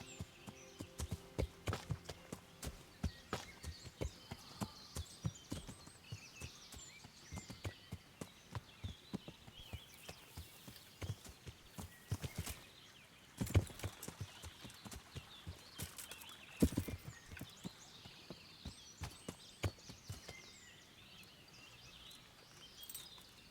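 Horse hooves clip-clop at a steady walking rhythm in the video game Kingdom Come Deliverance, rapid regular thuds with faint birdsong in the background, fairly quiet overall.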